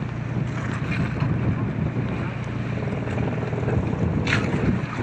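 Small boat out at sea in 4 to 6 foot waves, its bow dipping into the swells, with steady engine drone, rushing wind against the microphone and water splash throughout.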